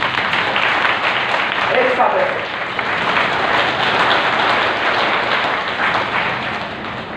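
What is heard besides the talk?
audience clapping hands together as a blessing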